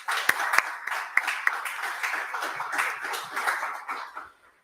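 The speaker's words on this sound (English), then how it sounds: "let's give him a round of applause" Scattered hands clapping at an entrepreneurship month dialogue event, a small audience giving a short, uneven round of applause with distinct individual claps that fades out near the end.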